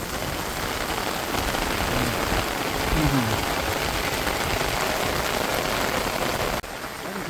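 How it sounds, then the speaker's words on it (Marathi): Rain falls steadily over flooded rice paddies in a continuous hiss of drops hitting surfaces, fairly loud, with no talking. "हे पहा पाऊस पडू लागला"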